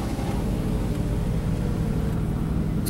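A Plymouth Prowler-style custom car idles at an outdoor rod and custom car show, a low, quiet, steady engine rumble with no revving, heard close and continuous.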